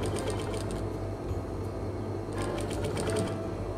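A sewing machine stitches the neckline of a Muslimah dress, running steadily and close at a continuous whirring pace, with short bursts of needle clatter and no talk.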